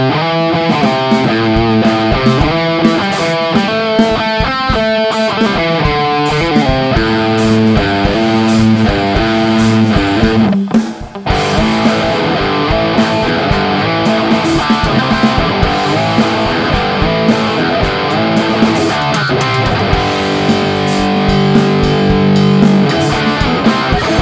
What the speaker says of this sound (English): Yep, another distortion pedal.